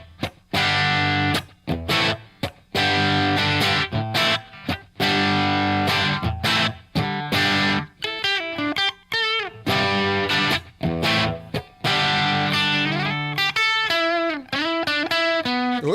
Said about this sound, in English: low output pickups through a good amplifier